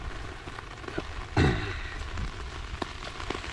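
Steady patter of rain on an umbrella overhead, close and even, with one louder thump partway through.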